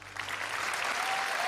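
Dense audience applause at the 1995 Eurovision Song Contest, steady and full, swelling slightly over a short stretch with no talk.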